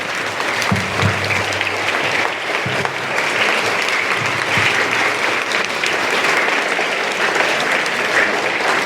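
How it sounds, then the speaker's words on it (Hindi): An audience at a school foundation day celebration applauds loudly and continuously, a thick, even roar of clapping that holds steady throughout with no pause. "तालियां जोर से बजाइए आप लोग"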